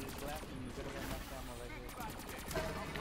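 Rapid automatic gunfire from Black Ops 3 Zombies rattles continuously in quick bursts, dense and fairly loud, with a voice talking over the shooting.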